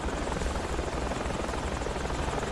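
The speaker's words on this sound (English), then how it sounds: "I'm in a helicopter," Continuous helicopter rotor and engine roar in the Project Reality military game, steady and loud throughout with a dense low thump and broadband wash, no talking.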